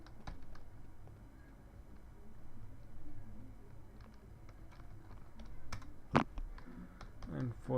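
Keys clack on a computer keyboard while an axis label is typed for a plot, faint scattered taps building to a few sharper clicks near the end, with a voice talking quietly under them.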